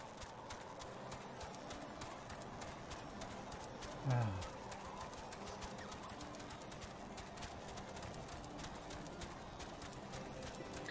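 Pigeons coo softly amid Final Fantasy XIV game ambience, with a steady bed of rhythmic hoof-like clopping and one brief, louder low thump partway through.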